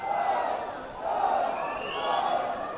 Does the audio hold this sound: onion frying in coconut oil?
no